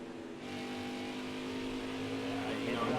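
Stock car engine from the NASCAR Heat 5 racing game with a 1998 mod at Iowa, a steady loud drone with climbing harmonics as it revs up, with a voice talking faintly underneath.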